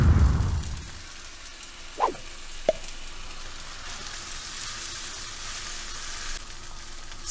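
Rice noodles with homemade Pad Thai sauce cooking in a pan for chicken Pad Thai, giving a soft continuous sizzle with a couple of brief utensil clinks early on, close and fairly quiet.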